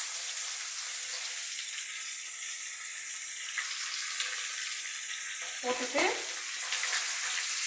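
Washed, still-wet ridge gourd peel fries in a pan with a steady, close sizzle, a brief stirring clatter near the end and a short spoken word.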